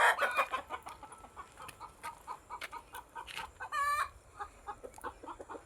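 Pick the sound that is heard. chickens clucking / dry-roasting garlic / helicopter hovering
chickens clucking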